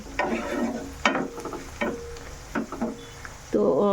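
Garlic sizzling in hot oil in a pan for a garlic and green chilli pickle, with close, sharp knocks of a utensil stirring at irregular intervals and a steadier, louder fry toward the end.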